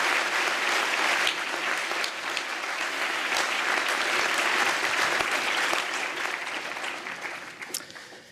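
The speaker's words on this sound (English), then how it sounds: "a round of applause for all those who organised this today would be worthwhile" A graduation audience claps steadily in a large hall, dense sustained applause that holds for several seconds before thinning slightly at the end.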